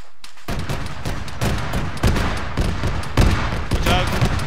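Dense, sustained automatic gunfire in the military shooter Arma 3 during a night firefight, with rapid overlapping bursts and heavy loud shots rolling continuously throughout.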